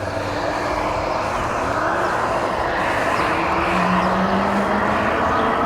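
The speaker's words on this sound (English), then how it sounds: "So let's see how fast it will go with just the twist throttle." An electric bike speeds up on its twist throttle, a constant loud rush of wind and road noise with a faint motor whine that rises in pitch as speed builds, with no talking.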